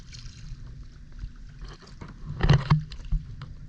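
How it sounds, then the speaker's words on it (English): Kayak out on open water near a house, with soft sloshing paddle strokes and a louder splashing pull toward the end, wind brushing the microphone throughout. "So we just took the kayak out right from the house."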